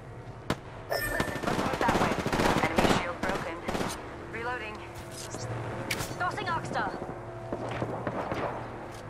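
Enemy gunfire in Apex Legends: rapid bursts of automatic shots and scattered single cracks over about nine seconds, with footsteps and game effects underneath.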